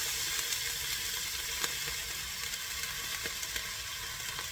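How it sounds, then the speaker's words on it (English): A steady, fairly quiet sizzle and hiss from a hot pot being deglazed while cooking beef shepherd's pie, continuous throughout with a few faint clicks and no talking. "we're going to deglaze this pot"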